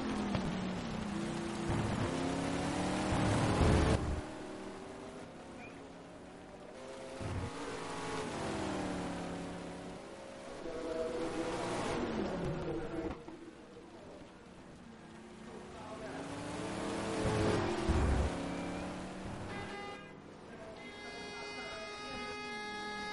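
Corvette race cars pull into the pits at Donington Park during an STC Black Cup round. Engines rise and fade in repeated passes, fairly distant and soft, under a commentator's voice.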